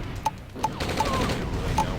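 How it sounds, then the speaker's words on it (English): Artillery units force-firing in the real-time strategy game OpenRA, heard as a series of sharp, spaced shots, each with a brief ringing tone, over a dense, busy battle ambience. "Looks like there's going to be a little bit of force fire by these artillery."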